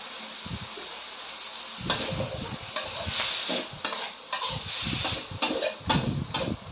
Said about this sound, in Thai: ผัดเห็ดหอมกับหมูสับก่อนจ้ะ